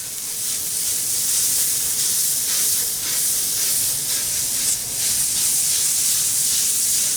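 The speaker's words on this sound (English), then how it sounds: "So now I'm just going to put some butter down." Butter sizzles on a Blackstone griddle over medium heat, with leftover sausage fat on the surface. A loud, steady, close hiss runs without pause and no one talks.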